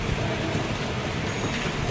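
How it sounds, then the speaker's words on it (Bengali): Rain falls steadily during Cyclone Remal onto a flooded street, a soft, even hiss that continues without a break. "এই যে বৃষ্টি হচ্ছে আর এই যে রাস্তায় পানি জমে গেছে"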